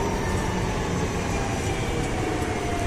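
Lisbon metro train passing near Belém, a steady loud broadband rumble of wheels and rails holding evenly throughout with no talk.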